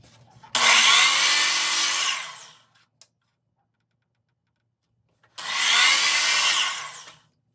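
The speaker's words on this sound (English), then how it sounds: "I'm also going to give the bead molding a 45-degree chamfer" A power tool cuts a 45-degree chamfer along wooden bead molding for interior window trim in two loud bursts, each running about two seconds, split by a silent gap with one faint click, with no talking.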